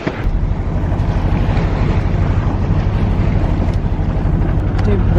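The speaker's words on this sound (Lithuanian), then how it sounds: "Mažai vėjo, tai varom ant variklio." A sailboat motoring on its engine in light wind and damp, humid weather, with a loud, steady, close engine drone blended with wind and water rush throughout.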